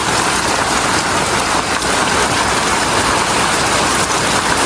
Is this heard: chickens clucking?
no